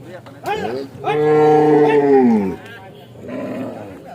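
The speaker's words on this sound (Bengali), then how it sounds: "আরেকটি গরু পাগলামি শুরু করেছে। গরুকে বাঁধার খুব চেষ্টা করছে" An agitated cow at a Bangladeshi cattle market for Qurbani bellows loudly and close: a short call, then a long drawn-out moo, then a shorter one.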